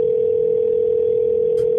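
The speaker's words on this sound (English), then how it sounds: "I'll pick up the satellite phone and dial *616." A satellite phone sounds a steady, unbroken dial tone, loud and close, with a brief faint click near the end.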